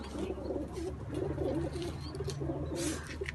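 Soft, repeated pigeon coos roll along continuously at close range, with a faint chirp or two over a low background drone.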